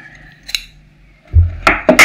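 Scissors snip through crochet yarn, giving a few sharp, close metallic clicks and a quick cutting rasp in a quiet indoor setting.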